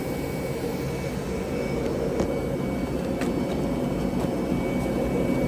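A Horizon CRF-362 creasing and folding machine running at speed, a steady loud mechanical whir and hum with a few faint ticks and clicks of sheets passing through, no voices.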